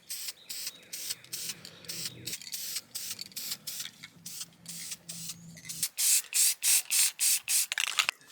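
Spray can applying chrome paint to 3D-printed District 9 rifle parts: hissing sprays of varying length, then a series of short, regular bursts, close and fairly loud, with no talk.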